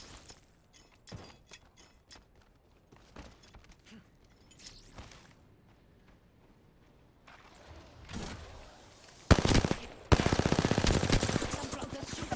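Gunfire in the video game Apex Legends, scattered single shots and short bursts at first, building to loud rapid automatic fire near the end.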